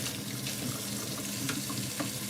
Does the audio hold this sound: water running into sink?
yes